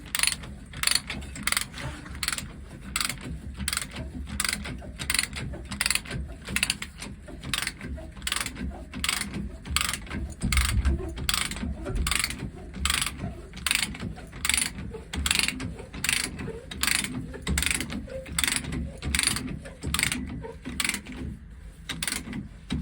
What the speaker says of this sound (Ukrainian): ми затягуємо до упору гайку яка у нас застопорена пружинною пластиною